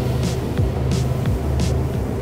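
A Rame Yacht R10 motor boat running at full throttle around 4,700 RPM and about 35 knots, a steady close engine drone with rhythmic thumps as the hull slaps over waves.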